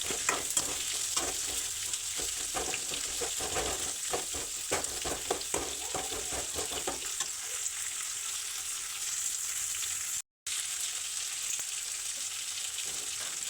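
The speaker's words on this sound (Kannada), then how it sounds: "ಮೆಣಸಿನ್ಕಾಯಿ ಕೂಡ ಇಲ್ಲಿ ಆ್ಯಡ್ ಮಾಡ್ಕೊತಾ ಇದ್ದೀನಿ ಈಗ ಇಷ್ಟು ಹಾಕ್ಕೊಂಡು ಚೆನ್ನಾಗಿ ಫ್ರೈ ಮಾಡ್ಕೊಳ್ಳಿ" Green chillies frying in oil in a pan for kadle puri chitranna, a soft continuous sizzle with scattered crackles and stirring scrapes, busier at first then settling into a quieter, even hiss.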